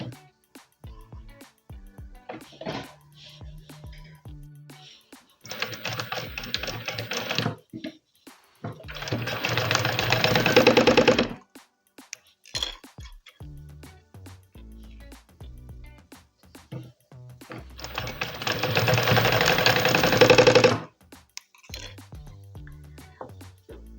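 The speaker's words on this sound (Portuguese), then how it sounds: "vou passar uma costura, um pé de máquina aqui" A sewing machine runs two long bursts of stitching along the edges of fabric for a bucket bag, loud and steady, with quieter handling clicks and rustles between the runs.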